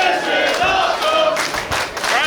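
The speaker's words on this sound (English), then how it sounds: "Crowd loving it here in Yarmouth, Maine" A wrestling crowd at a live independent show in Yarmouth, Maine, cheering and yelling loudly and continuously, the noise swelling in waves.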